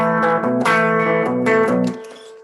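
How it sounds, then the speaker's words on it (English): Clean electric guitar playing a riff with no distortion, close and alone, a repeating pattern of chunky chords and notes that ends ringing out. "I've actually got my guitar plugged in, but I haven't got any distortion on it"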